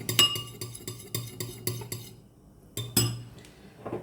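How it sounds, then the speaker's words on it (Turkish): A utensil stirs olive oil in a dish with a rapid regular series of bright metallic clinks against the bowl, a short pause, then a few more taps, close and clear, no talk. "Önce bunu şöyle bir hafif bir karıştırıyorum"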